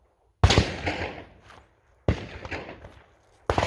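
Three loud, close gunshots from a handgun firing 124 grain ammunition, spaced about a second and a half apart, each with a sharp crack and a rolling outdoor echo that fades before the next shot.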